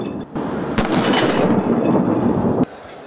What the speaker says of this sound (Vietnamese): 21 phát đại bác được bắn lên chào mừng